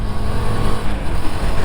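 A Husqvarna Svartpilen 250 with a 250cc liquid-cooled single-cylinder four-valve DOHC engine, heard loud and close while riding, a dense continuous engine drone mixed with wind roar and no talk.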